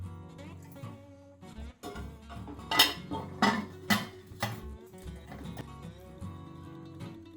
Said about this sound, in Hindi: अब हम कुकर को पैक कर देंगे।